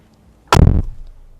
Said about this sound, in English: Beautiful closing sound for the G-Class, and this is known for every generation.